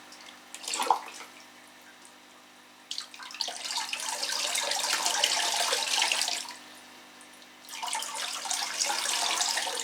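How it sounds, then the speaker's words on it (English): Water pours over a Phalaenopsis orchid and runs off its leaves, a soft splashing rush that comes in several sustained bursts with short quieter gaps between them. "I just like to water them. and I like to let the water just run off the leaves"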